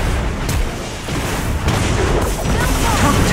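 Turret destroyed in League of Legends: Wild Rift, heard as a loud booming crash with sharp bursts around the one-and-a-half and two-second marks, amid dense game noise and a voice.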